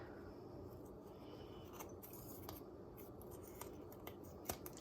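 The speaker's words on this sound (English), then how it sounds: "we're gonna cut off all of these extra edges" Scissors snip away the extra edges of fresh pasta dough in a few faint, brief cuts over quiet room tone.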